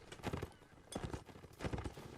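Horse hooves clatter in a Napoleonic Wars line battle video game, with bursts of clopping hoofbeats rising and falling across a loud, busy battlefield.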